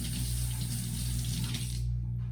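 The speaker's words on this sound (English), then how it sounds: "Let me rinse off my finger." Tap water runs steadily as a finger is rinsed beneath it during a tabletop science experiment, a continuous close hiss of flowing water that thins out and drops away near the end.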